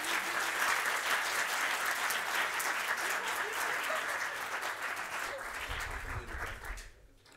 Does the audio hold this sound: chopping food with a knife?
no